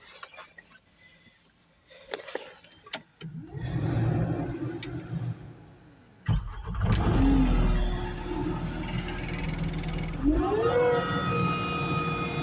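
A farm skid loader engine starts up and runs loudly and steadily close by, its pitch rising as it revs, after some quieter clanks and handling noises.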